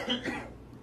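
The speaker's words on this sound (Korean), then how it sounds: "방송하는데 기침하시고" A man coughs in short bursts twice during a live Korean talk broadcast, close to the mic, then fades into quiet room tone.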